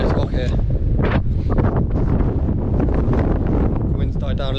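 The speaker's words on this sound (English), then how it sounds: "that wind is so sharp when it comes" Strong, sharp wind gusting over an exposed rock in the mountains of Tasmania, a loud continuous roar buffeting the microphone throughout with no break.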